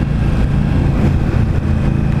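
A 2016 Indian Scout motorcycle engine drones loud and steady on a test ride, its dense rumbling exhaust holding high revs with wind noise and no pauses.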